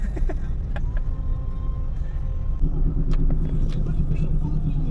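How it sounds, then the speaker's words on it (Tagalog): Heavy traffic on EDSA, with motorcycles crowding the bike lane and buses nearby, makes a steady close road rumble of idling and creeping engines, a louder engine swelling in partway through. "Grabing traffic dito sa EDSA mga boss."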